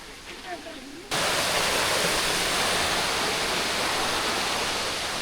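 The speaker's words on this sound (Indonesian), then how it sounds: "Air terjunnya lumayan bagus." Waterfall at a tourist spot near Luwuk, a loud, steady broadband rush of falling water that cuts in abruptly after a second of quieter outdoor ambience and then roars on without pause.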